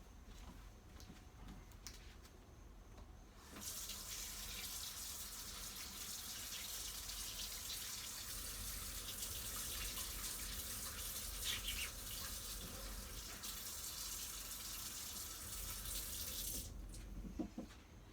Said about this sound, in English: either wash or put my transfer in water really fast